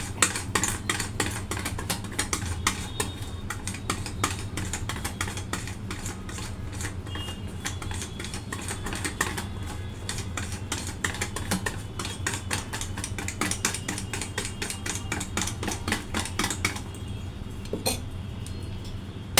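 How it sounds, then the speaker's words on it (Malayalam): A pot being stirred with a stick for a minute in one direction, a fast, steady run of close clicking and scraping taps under a low background hum, with no speech. "സ്റ്റിക്ക് വെച്ച് ഒരേ സൈഡ് തന്നെ നമുക്കൊന്ന് ഒരു മിനിറ്റ് ഒന്ന് ഇളക്കാം"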